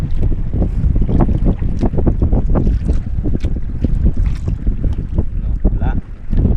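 Loud, gusty wind buffets the microphone in a continuous rough roar, with splashing water and a fishing boat's motion underneath.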